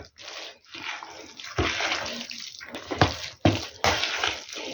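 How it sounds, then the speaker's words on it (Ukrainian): Warm water pours into a thick cabbage-roll filling in short, uneven splashy gushes, stopping and starting several times at close range, with no talking over it. "Я додам трошечки води, така тепла сюди"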